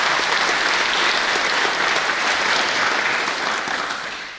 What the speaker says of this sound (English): I'd like to say another round of applause for all of our award winners